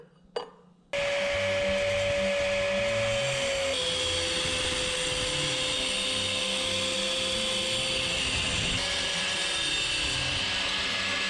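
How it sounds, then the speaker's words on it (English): An e-bike brake bracket being cut in half, a steady loud tool whine with a sustained tonal pitch that shifts once partway through, running continuously after a brief quiet start. "let me cut this bracket in half here"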